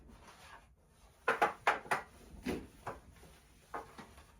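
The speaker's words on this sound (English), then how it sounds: "I'm going to put some on my rag and just start polishing these" A rag with cleaner rubbing and polishing wooden surfaces in a foyer, heard as a series of soft, close swishing wipes in irregular strokes.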